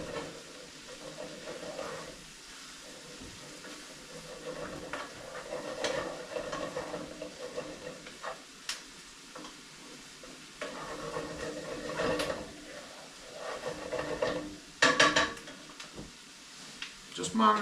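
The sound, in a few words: vegetables and garlic sautéing in a pan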